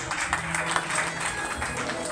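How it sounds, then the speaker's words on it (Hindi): Applause from a gathered audience at a family function, a steady dense patter of clapping lasting the whole moment, fairly close, with some voices mixed in. "तालियां बजनी चाहिए"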